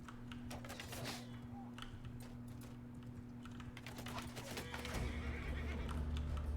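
A horse whinnies amid hoofbeats in the game Mount & Blade, set in Calradia, over a low steady hum with quick keyboard-like clicks throughout.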